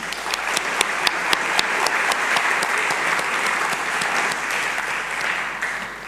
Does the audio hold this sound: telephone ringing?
no